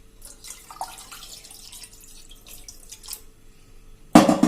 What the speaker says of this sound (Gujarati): આ બાજુ આપણે પાણી મૂકી દેશું ઉકળવા માટે 1 ગ્લાસ જેવું।